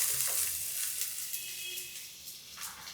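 Oil heating in a pan for Andhra-style fish curry gives a steady, close sizzle with a bright crackling hiss throughout, and no voices are heard.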